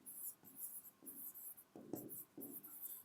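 Pen writing on paper during a maths lesson, a series of short soft scratching strokes in irregular bursts, close and quiet with no talk.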